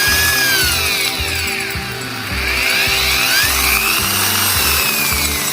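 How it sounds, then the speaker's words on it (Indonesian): Angle grinder run through a power-saving device that starts it slowly, a loud close motor whine that dips briefly and then rises back to full speed. "Kayak gerinda ini kan, nantinya ketika dimasukkan dulu ke alat ini, dia akan kecil dulu putarannya,"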